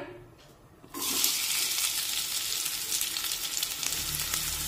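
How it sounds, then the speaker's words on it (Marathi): Thinly sliced onions drop into hot oil, setting off a sudden loud, steady sizzle after a second of quiet that keeps up close and unbroken, no voices. "मी 2 मध्यम आकाराचे कांदे असे उभे पातळ चिरून घेतलेले आहेत, ते या तेलामध्ये टाकूया"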